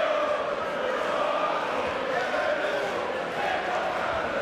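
Crowd murmur and cheering fill a boxing arena at the Telford International Centre during a bout, a dense, steady wash of many voices throughout with no single standout.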